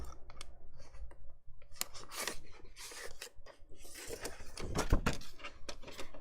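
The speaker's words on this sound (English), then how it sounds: "You can probably hear all this rustling" Paper rustles and crinkles during crafting, with irregular close crackles, sharp snips and scraping bursts in uneven clusters, fairly quiet.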